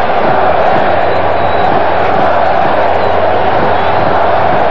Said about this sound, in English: Crowd trying to will its ball club to get a move on.